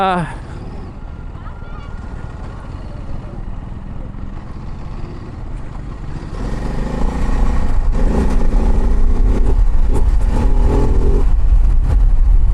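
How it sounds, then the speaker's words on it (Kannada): A Ducati DesertX motorcycle on a monsoon jungle ride to Sakleshpur with a loose chain, engine rising from a low idle to a loud, sustained ride with rattling clatter; someone talks early on. "ಚೈನ್ ಲೂಸ್ ಇದೆ ಚೈನ್ ಹೊಡಿತಾ ಇದೆ ಕೆಳಗೆ ಕಟ ಕಟ ಕಟ ಸೌಂಡು"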